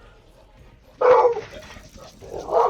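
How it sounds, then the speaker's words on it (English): A dog barks in a few loud, close bursts with a pause between them, while someone talks. "that's my dog doing his job."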